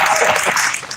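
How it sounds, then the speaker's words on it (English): Brief clapping from a live panel audience at a Six Flags Magic Mountain Fright Fest event, a dense steady patter of many hands, fairly close and loud. "You can clap, it's okay."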